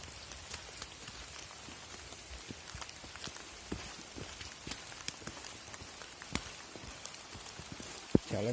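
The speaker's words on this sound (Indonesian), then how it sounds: "Terdengar rintian hujan." Steady rain patters on a misty mountain trail, faint and even, with scattered sharper drip and tap sounds close by.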